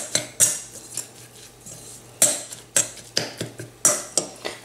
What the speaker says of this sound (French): Je mets également du persil et je vais mélanger tout ça